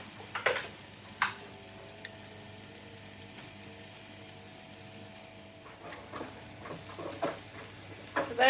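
Berries with cinnamon frying quietly in a pan, giving a soft, steady sizzle broken by occasional clicks and scrapes of stirring.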